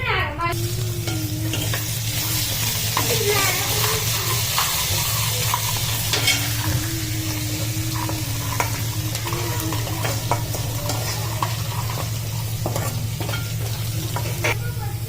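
Mustard seeds, fenugreek, chili and garlic paste frying in hot oil for a Gujarati cauliflower-tomato curry, giving a steady close sizzle with a constant low hum and occasional stirring scrapes throughout.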